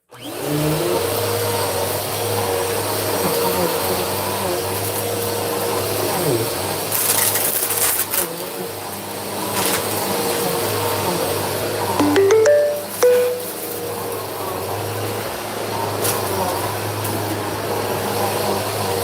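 A new household vacuum cleaner runs steadily and loudly nearby, a constant droning whine with a brief pitch wobble partway through as it moves across the floor.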